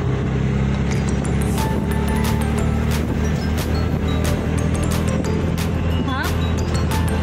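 Road traffic crawling in a jam on the way into a village, with a continuous close engine rumble and passing vehicle noise filling the stretch, broken by short sharp knocks and clicks.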